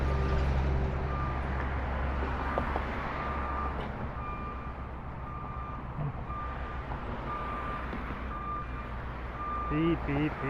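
A construction crane beeps steadily while reversing on a city street near Georgetown, with regular tones over rumbling heavy traffic and a voice talking nearby.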